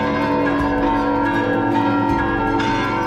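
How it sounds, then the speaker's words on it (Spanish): A hand-rung bell bearing the Sevilla FC crest, part of a manual belfry in Andalusia, rings loudly with dense, layered metallic tones and strikes that keep sounding with no pause and no voices. "esta preciosa campana que luce el escudo del Sevilla Fútbol Club"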